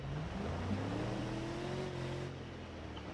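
Car engine in the BeamNG driving game revving steadily in low gear while climbing uphill, a continuous loud drone with rising harmonic pitch and no speech over it.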